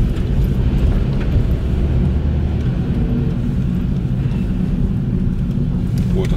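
A car rolls slowly into a parking area where work vehicles stand, its engine a steady low rumble up close, with wind buffeting the microphone throughout.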